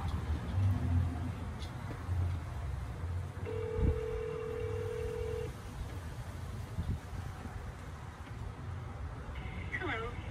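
A phone call rings out to a park office with no answer, a steady electronic tone sounding for about two seconds over constant background noise and a low hum, with a brief chirp near the end.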